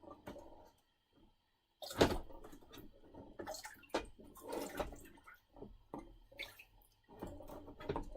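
Water splashes and rinses sand off small found items in a shed, coming in irregular gushes and trickles with brief pauses and a few knocks between them.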